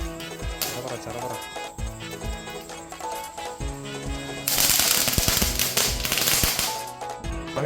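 Chara-para firecrackers bursting in rapid crackling volleys during Vishu celebrations, a dense popping burst swelling loud midway and continuing to the end.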